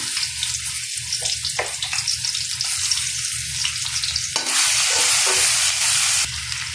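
Onions frying in a pan over a dense crackling sizzle, with intermittent stirring and a louder hissing surge partway through, close and continuous, with no speech.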